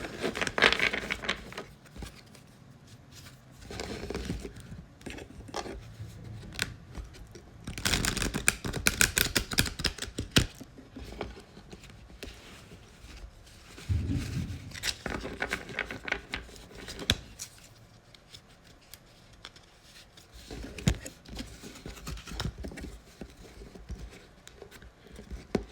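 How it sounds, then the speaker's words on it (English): Tarot cards shuffled dealer-style, Vegas fashion, in repeated bursts of crisp riffling and soft slapping patter, close by, with quieter pauses between the rounds. "I kind of shuffle my cards like a dealer."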